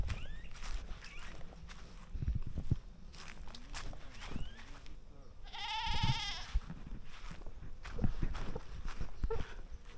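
Goats bleat in a rural Maroon village in the Jamaican hills, one clear wavering bleat standing out mid-way over outdoor ambience with footsteps and shuffling nearby.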